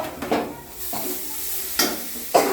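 Fried spice masala is stirred in a kadai, steady sizzling broken by several sharp scraping strokes of a spoon against the pan, close and fairly loud.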